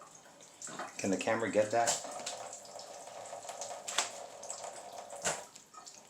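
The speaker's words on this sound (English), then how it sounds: "Just gonna lightly rinse them in water." Tap water runs over flounder fillets being rinsed in a kitchen sink, a steady soft splashing flow throughout, with a person speaking briefly over it.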